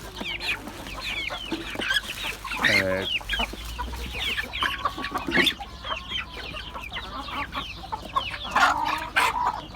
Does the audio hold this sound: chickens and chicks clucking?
yes